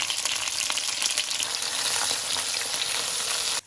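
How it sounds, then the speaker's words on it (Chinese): Scallion, ginger and garlic with star anise, cinnamon and other spices hitting hot oil in a wok, a loud steady sizzle and crackle close up that stops abruptly at the end, no voices. "先加入油，倒入葱姜蒜，"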